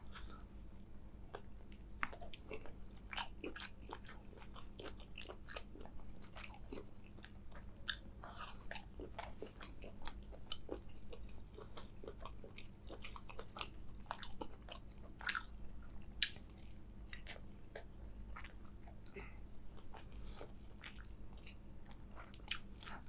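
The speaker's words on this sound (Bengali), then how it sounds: "আচ্ছা, চিংড়ি খাই।" Giant tiger prawn chewed up close during a seafood mukbang, with steady wet crunches and sharp bites repeating through the whole stretch over a faint low hum, and no talking.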